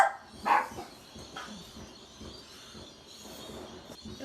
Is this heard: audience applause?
no